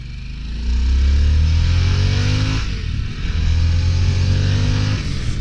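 A 2023 Harley-Davidson Sportster S in sport mode revs hard through the gears, its engine note climbing loudly, dropping at a shift, then winding up again, close and continuous.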